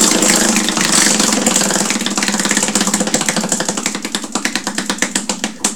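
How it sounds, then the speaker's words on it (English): A prize wheel spun during a 2015 Anthology trading card box break clicks rapidly against its pointer, the ticks spreading out and slowing to separate clicks as the wheel winds down. "we're going to spin the wheel and give away a bonus prize in this break."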